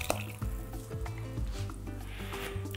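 Chicken hearts with their broth poured into a soup pot, giving a short hissing sizzle and bubbling splash with light clinks of a pot, close and steady for a few seconds.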